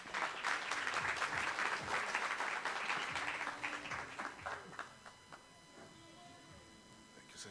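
Warm applause from an audience at an Earth Hour event welcoming a speaker, strong for about four seconds, then thinning and fading as a voice comes in quietly.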